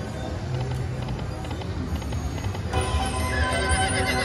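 Recorded horse neighs and clip-clopping hooves play from an Ultimate Fire Link slot machine in a casino, a steady mix of whinnies and galloping hoofbeats amid machine chimes throughout.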